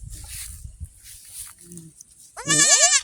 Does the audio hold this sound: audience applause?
no